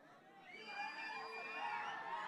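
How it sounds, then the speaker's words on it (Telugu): A crowd at a film song launch event cheers and shouts in a steady, distant roar that swells slightly, with no clear single voice standing out. "ఇవాళ మీ అందరి కేరింతలు అరుపులు బాగానే వినిపిస్తున్నాయి"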